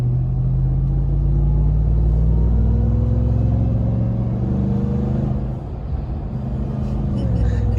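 A 2021 RAM TRX truck with a supercharger drives under power, giving a deep, steady engine rumble inside the cabin with a thin rising whine riding above it, loud and continuous throughout.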